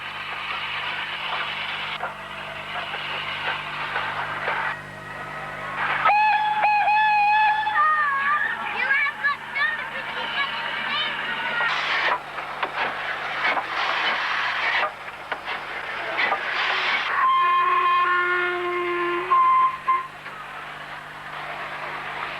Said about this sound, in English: here comes my very own steam engine